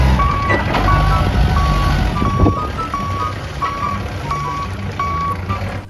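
Toy forklift sounding a repeated electronic reversing beep, evenly spaced tones pulsing steadily over a dense background rumble of toy vehicles and room noise.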